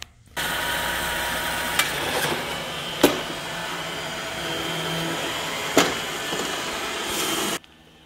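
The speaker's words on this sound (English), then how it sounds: "loves to watch the Roomba going left and right" A Roomba i4 robot vacuum cleaner runs indoors with a steady broadband whir that starts abruptly, holds for about seven seconds with a few sharp knocks and clicks, then cuts off.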